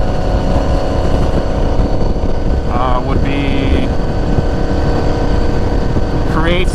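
A Honda VFR800 motorcycle engine drones loudly and continuously, with heavy wind rumble, as the bike rides along steadily.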